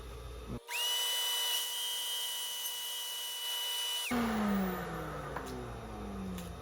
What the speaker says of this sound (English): I got a flush trim bit, and I'm going to use that to kind of finish off the piece that broke off